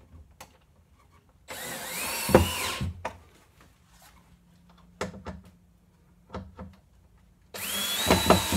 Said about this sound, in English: And I'll take my drill